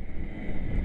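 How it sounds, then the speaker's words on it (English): Brief gusty wind buffeting a microphone, a low rumbling roar with no talking. "Wow, it's windy out there."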